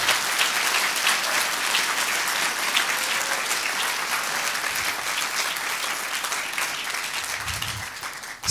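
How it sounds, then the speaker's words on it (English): Applause from an audience at a student entrepreneur pitch night styled after Shark Tank, sustained and dense clapping that stays loud and steady for several seconds before tapering slightly at the end. "Let's give a round of applause to all these student entrepreneurs."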